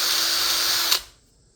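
A rotary sanding cone grinds steadily against the fork of a wooden bow loom for almost a second, giving a loud, continuous high-pitched whir. It stops abruptly, and the sound fades as the tool spins down.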